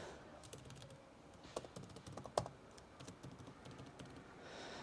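Keys clatter on a computer keyboard as a password is typed, a quick irregular run of close, light clicks with one sharper tap partway through, no voices.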